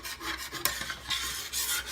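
A utensil scrapes browned meatball bits off the bottom of a hot cooking pan while beef stock is added, giving a series of rough rasping strokes with a brief sizzle, close and fairly loud.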